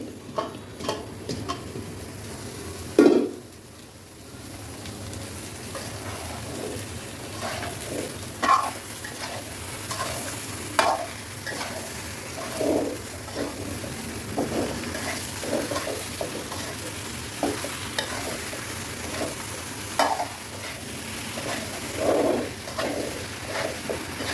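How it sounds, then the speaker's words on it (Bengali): Raw mango pieces cook in hot sugar syrup, a soft bubbling sizzle broken by repeated stirring scrapes and a sharp knock near the start, moderately close, with no talking. "এখন আমি এর মধ্যে ফাইনাল যে আম, সে আমগুলো দিয়ে দিচ্ছি"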